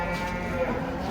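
Low, drawn-out mooing of jumbo cattle being unloaded from a truck blends into a dense, steady barn-like background, moderately loud, with a faint murmur of voices.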